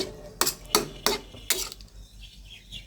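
Drumstick curry being stirred in a pot, four sharp scraping clanks of a metal spoon against the pot in quick succession, close, followed by quieter faint background sounds, no speech.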